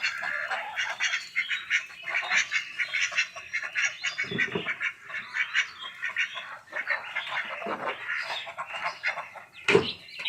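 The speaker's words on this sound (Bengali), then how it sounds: "এখানে আমি হাঁসও পালন করি।" Ducks kept confined in a pen on a backyard farm quack in a steady, busy chorus, with a couple of louder, nearer honking calls breaking through toward the end.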